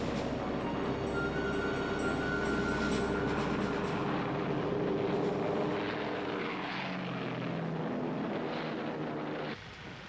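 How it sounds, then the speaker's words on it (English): Several four-engine WWII bombers, Stirling, Halifax and Lancaster, drone past in a loud, steady roar of piston engines and propellers that holds for most of the time before shifting lower and then cutting off abruptly. "A trio of heavily armed four-engine bombers, the Stirling, Halifax and Lancaster, were carrying the war back to the German people."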